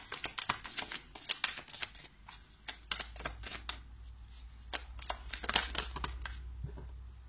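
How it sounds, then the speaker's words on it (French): Tarot cards being shuffled by hand, a close run of quick riffling and sliding bursts repeating in uneven clusters, with no talk over them. "je vais brasser les cartes pour avoir 3 cartes pour chacune des pierres"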